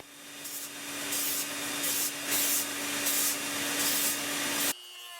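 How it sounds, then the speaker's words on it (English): A knife handle's belly is hand sanded with 320 grit sandpaper. Rhythmic back-and-forth rasping strokes repeat at a steady pace for several seconds, then stop abruptly. "I'm going to hand sand the belly of this knife handle."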